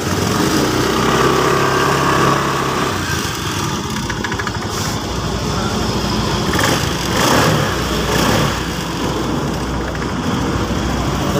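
A Honda Scoopy motorcycle with a broken injector line idles steadily and close by after starting, a constant engine drone with small shifts in tone and no talking.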